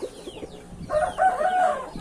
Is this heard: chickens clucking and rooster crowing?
yes